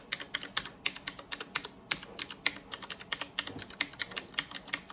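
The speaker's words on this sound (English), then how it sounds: "Sounds like a typewriter." Rapid, steady typing on a Qwerkywriter S typewriter-style keyboard, crisp clacking keystrokes close up, alone with no talking.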